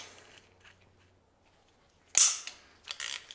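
A torque wrench clicks sharply once, then twice more in quick succession, close by, as bolts are torqued to 55 foot-pounds on a Jeep YJ Dana 30 axle being regeared from 3.55 to 4.56.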